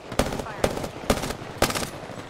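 Bursts of gunfire from the Apex Legends video game, four sharp volleys fired at a steady pace about half a second apart, loud and close.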